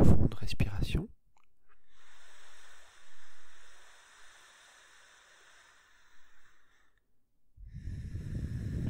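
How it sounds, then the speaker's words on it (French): Slow, deep breathing during a guided meditation: a long soft airy inhale and exhale between spoken passages, with a voice talking at the start and end. "On peut commencer par quelques profondes respirations."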